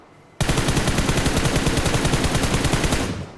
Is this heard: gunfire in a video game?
yes